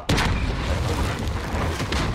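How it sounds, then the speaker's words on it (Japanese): A helicopter explodes in a multiplayer match of Call of Duty: Modern Warfare. A loud boom hits at once and is followed by a dense, rumbling blast that carries on for about two seconds, with a few sharp cracks on top. "ただヘリは爆発した。"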